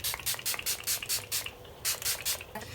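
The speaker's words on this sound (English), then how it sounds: "I'm just going to apply a little bit of the LA Girl Shimmer Spray" A series of short, hissing bursts of LA Girl Shimmer setting spray sprayed on a face, close and distinct, come in quick pumps with a brief pause midway.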